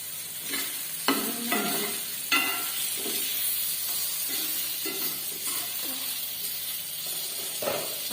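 Halved brinjal pieces being stir-fried in a pan, with a steady oily sizzle and repeated scraping strokes of a spatula at an uneven rhythm, close and moderately loud.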